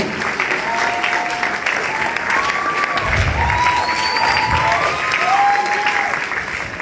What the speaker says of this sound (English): Keep clapping until he takes the mic.